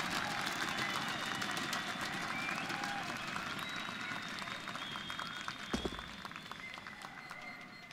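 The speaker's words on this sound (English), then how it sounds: "With the crowd against him, the cheers coming through" A crowd at an ESL One Cologne 2017 CS:GO semifinal on Cache fills a large arena with a dense, sustained roar of cheering and applause. A commentator talks over it.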